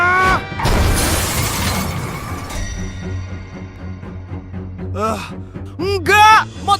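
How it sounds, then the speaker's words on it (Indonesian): Cartoon crash effect of a train smashing into a motorcycle, a loud shattering burst in the first seconds that fades into rumble, followed by a character's strained, wavering voice cries near the end. "Aku ketabrak kereta, Bu. Motorku hancur, nggak bisa diambil lagi."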